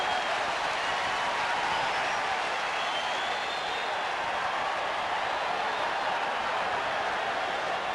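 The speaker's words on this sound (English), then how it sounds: "Big crowd, capacity crowd at Dodger Stadium" A capacity crowd at Dodger Stadium during Game 1 of the 1988 World Series, A's versus Dodgers, producing a steady, broad wash of applause and crowd roar that holds at an even level the whole time.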